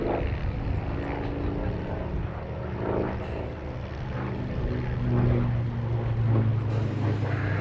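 A Hawker Fury FB.II propeller fighter flies at the Duxford airshow. Its piston engine gives a steady, droning roar that swells slightly, and a commentator speaks over it on the public address.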